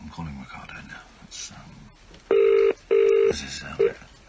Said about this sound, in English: I'm calling Ricardo now